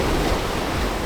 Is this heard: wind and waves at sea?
yes